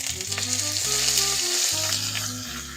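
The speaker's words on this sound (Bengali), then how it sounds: "পেঁয়াজটাকে হালকা একটু ভেজে নিব।" Onion paste frying in a pan with bay leaf, cardamom, cinnamon and whole cumin, giving a bright continuous sizzle over a low steady hum.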